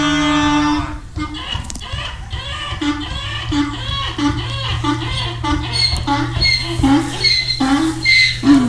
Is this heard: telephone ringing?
no